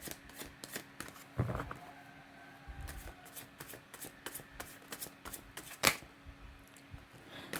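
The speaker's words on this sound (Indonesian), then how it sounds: "saya kocok kartunya" Tarot cards being shuffled up close, a quick flurry of soft riffling and flicking with a few louder slaps of the deck, no voices.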